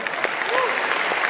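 An audience at a talk on learning breaks into brief, dense clapping, with some voices mixed in.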